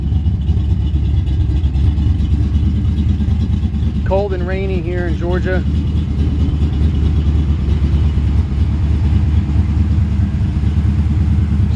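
A 1953 Chevrolet 5-window pickup with a mildly performance-built V8, cold-natured and left idling to warm up, runs in a steady, loud, low rumble throughout; a voice speaks briefly over it.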